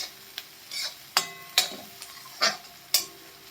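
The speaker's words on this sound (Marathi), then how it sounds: "टोमॅटो मऊ होईपर्यंत आपल्याला हा शिजवून घ्यायचा आहे बघा." Onion, tomato and green chili cook in a pan with a soft, steady sizzle, broken by about half a dozen sharp scrapes and taps of a spoon stirring against the metal, heard close with no talking.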